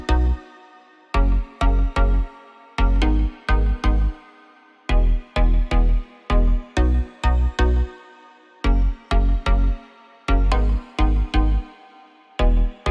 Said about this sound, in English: Add a sub-bass to the pluck.